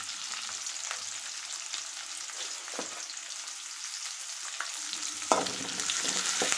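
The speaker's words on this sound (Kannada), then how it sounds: "ಇವಾಗ ಸ್ವಲ್ಪ ಕೆಂಪು ಆಗೋ ತನಕ ಹುರ್ಕೋತೇವೆ, ಬೇಯಿಸ್ತೇನೆ ಇದನ್ನು ಎಣ್ಣೆಯಲ್ಲಿ." Beans frying in oil in a pan, a steady close sizzle with occasional stirring scrapes and clinks, without any talking.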